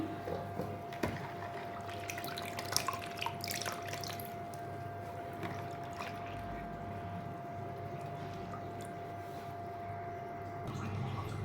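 Quiet splashing and dripping water, with small irregular sloshes as bitter gourd (karela) is rinsed. A faint steady hum runs underneath.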